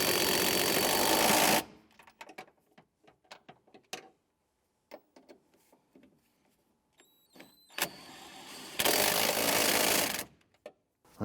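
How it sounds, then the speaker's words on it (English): Power tool bursts tightening shock absorber nuts on a 2001-2005 Honda Civic rear shock, two loud sustained runs of an impact tool around small metallic clinks and handling noises, close up. "Let's go ahead and tighten those down."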